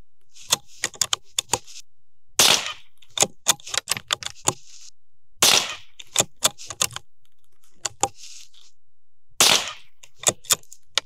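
A rifle topped with a CVLIFE 3-9x40 scope set to 6x is fired at a bullseye target. A few sharp, loud cracks stand out among many quick clicks and handling knocks, all close by with no talk.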